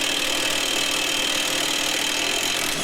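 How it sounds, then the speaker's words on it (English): A power tool whirs steadily while the axle nut comes off a 2002 Honda Civic, a loud, continuous, unbroken mechanical drone close by. "Now I'm taking out the axle nut"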